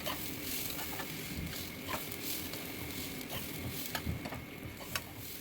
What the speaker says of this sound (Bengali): এভাবে ডালটাকে আমি আগে ভেজে নেব